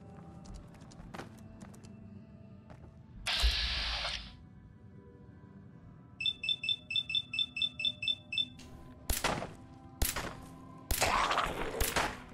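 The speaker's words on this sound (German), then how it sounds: "Ich habe so viele Schüsse gebraucht." Fallout 4 gunfire in survival mode: sharp, loud bursts of shots come in separate clusters, with a rapid train of electronic beeps between them over quiet game ambience.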